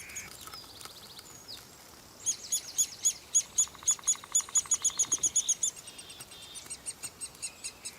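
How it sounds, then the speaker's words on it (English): A Eurasian three-toed woodpecker in a spruce forest gives a run of sharp, rapid chirping calls in quick bursts, clear and fairly close against quiet surroundings. "the Eurasian three-toed woodpecker"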